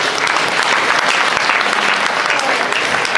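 An audience applauds volunteers at a stage hypnosis show, a steady, loud round of clapping sustained throughout without a break.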